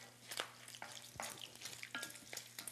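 Bacon frying in a pan gives a soft, steady sizzle with small crackles and pops, faint and close, with no voices.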